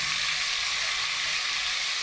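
Onions and ginger garlic paste frying in a pan give a steady, dense sizzle that holds even and close throughout, with no voices over it.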